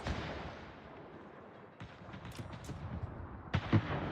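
Naval gunfire from enemy warships in World of Warships, dense rumbling cannon fire with a few sharper booms rising near the end, continuous and fairly loud throughout.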